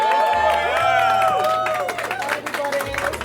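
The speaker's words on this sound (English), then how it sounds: "Got a group of people arranged to meet her, greet her with cheers and applause." A crowd of people greets politician Kemi Badenoch with cheers and applause, a dense wash of clapping and shouting voices close by, with sustained tonal cheering rising over the babble for about three seconds.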